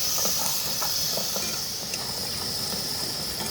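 Mutton and goat blood cooked outdoors Malvani-style, sautéed with Malvani masala in a pan, gives a loud, steady hiss and sizzle that runs throughout with no pauses and no talking.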